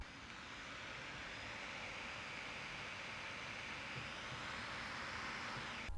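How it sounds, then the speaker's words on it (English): Cooling fan of a 2017 MacBook Pro laptop running at speed, giving a faint, steady, continuous whooshing hiss that holds at one level throughout, with no talking. "you could hear the 2017 fan noise is going off."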